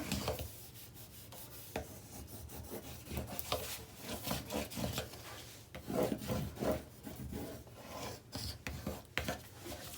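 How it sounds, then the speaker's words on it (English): A bone folder or similar tool burnishes paper on a Simple Stories Happy Haunting mini album, making steady scraping and rubbing strokes in uneven bursts for about ten seconds, fairly quiet and close, with no talking. "give it a good burnish all over everywhere there"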